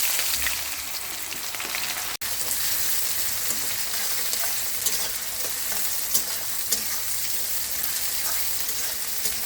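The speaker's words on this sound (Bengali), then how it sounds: "এবার আমি পেঁয়াজটা দিয়ে দেবো।" Chopped onions fry in hot oil with cumin, dried chilli and bay leaf for a biryani, sizzling loudly and continuously with occasional stirring.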